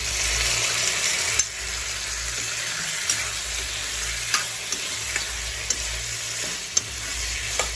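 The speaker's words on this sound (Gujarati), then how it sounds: "ટામેટાને સાતળીશું તેલમાં।" Tomatoes sauté in oil for pizza sauce with a continuous close sizzle. Periodic sharp spatula scrapes and taps against the pan punctuate it, and nobody talks.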